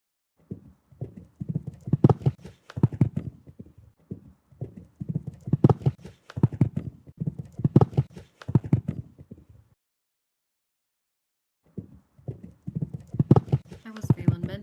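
Horse hooves clip-clop through a show jumping round in the Star Stable Online video game, steady bursts of galloping footfalls with a pause near the end, playing loud and close without anyone talking.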